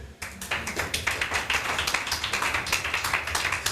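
A church congregation claps together in steady, rapid rhythmic acclamation of Jesus, many hands loud and close, continuing evenly throughout with no talking.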